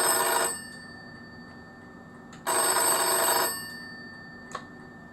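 Telephone bell ringing in two long bursts about a second each with a pause between, in a shed full of old telephones, followed by a faint brief tinkle; no talk.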